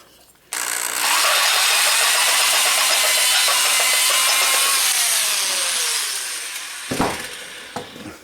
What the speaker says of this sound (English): Got my sanding block on my old electric drill